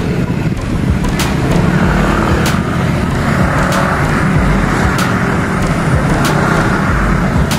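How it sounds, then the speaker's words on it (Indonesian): A car's engine drones steadily as it labors up a very steep hill, a dense continuous roar with traffic noise and scattered clicks, loud and close throughout. "mobil apa lagi ya, nggak kuat nanjak itu ya."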